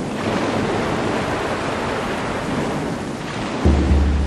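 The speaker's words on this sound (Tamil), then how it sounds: "இயற்கையின் கோர தாண்டவம் பெருமழையால் பேரவலம்" Heavy rainstorm, a loud dense roar of rain with a rumbling, thunder-like low swell near the end, continuous and close with no speech.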